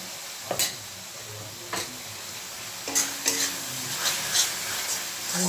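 A dry spice mix sizzles in a frying pan for Bengali chicken masala gravy, a steady hiss broken by several sharp stirring scrapes and clatters, close and moderately loud with no talking.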